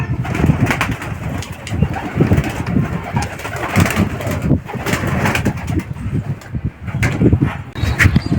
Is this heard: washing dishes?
no